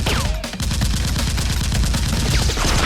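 Rapid bursts of gunfire in a staged fight film with Nerf guns fill the scene, loud, dense and continuous.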